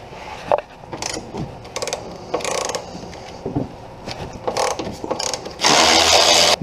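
Wrench loosening strut mount nuts on a 2007 Toyota Camry, close-up ratcheting clicks and metallic fidgeting in short bursts, ending with a louder steady burst of rasping mechanism noise.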